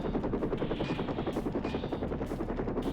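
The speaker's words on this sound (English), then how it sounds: "Is there an enemy inside there who's shooting at me, but he's hitting the wall?" Steady rapid enemy gunfire in the 1999 video game 007: Tomorrow Never Dies, an unbroken rattling stream of shots over a droning helicopter rotor.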